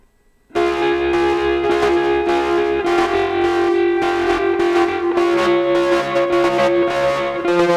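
Electric guitar runs through old Dano effects pedals, heavily distorted and gnarly, starting abruptly after a brief silence and then sustaining loud, thick chords with rhythmic swells for several seconds.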